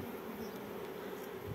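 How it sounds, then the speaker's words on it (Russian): Honey bees swarm around a freshly caught swarm, making a dense, continuous buzzing that stays close and steady throughout with no voices. "смотри, пчелы-то здесь много"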